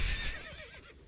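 A horse whinnies in The Witcher 3 video game, a loud, close neigh that trails off over about a second amid game ambience.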